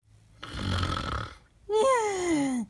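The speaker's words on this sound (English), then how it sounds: "Oh my God, he's snoring so obnoxiously." Loud, obnoxious snoring from a sleeping person, a rough rattling inhale followed by a nasal, whistling exhale that slides downward, two close breaths in a row with nobody talking.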